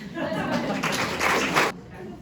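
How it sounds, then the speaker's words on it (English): Audience applause at a Valley News candidate forum for Ward 1 candidates, a dense wash of clapping from a seated crowd lasting under two seconds and cutting off sharply, with some voices mixed in. "I know I said no applause, but I think it's okay now"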